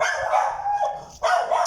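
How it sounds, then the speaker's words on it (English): A dog barks twice in quick succession, close and moderately loud, with no talk over it. "Fucking stupid motherfucking dog"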